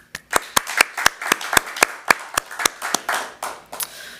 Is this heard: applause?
yes